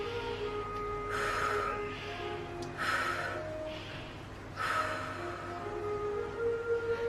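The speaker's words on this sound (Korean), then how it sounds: "마시고 1초, 내쉬고, 마시고, 내쉬고, 다시 마시고, 내쉬고 길게." Lamaze childbirth breathing for labour, three close breath bursts with gaps between them, each inhale and exhale audible and fairly near, with no talking over them.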